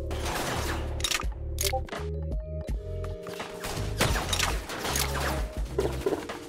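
M24 sniper rifle shots ring out in the Jailbird Remastered video game as a series of sharp, loud cracks with mechanical bolt-action clicks and reload sounds between them. Other game effects are layered underneath.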